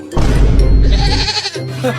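A goat bleats in a loud, wavering cry that lasts about a second, with people talking around it in a playful domestic scene.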